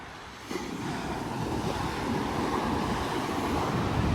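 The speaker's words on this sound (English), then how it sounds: "nice little waves there coming through" Small waves roll in on calm ocean water near Point Cartwright, a steady, moderately loud wash of surf with wind buffeting the microphone; the sound swells after a brief quieter opening.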